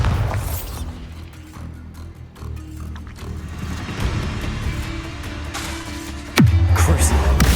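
Bombarda spell blast in the Hogwarts Legacy video game: a sudden loud boom lands near the end, over busy game sounds and music that run throughout.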